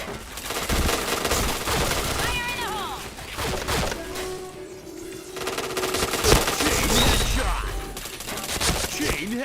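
Dense bursts of rapid automatic gunfire from the online shooter game Point Blank, with rattling volleys repeating almost nonstop and a voice murmuring faintly underneath.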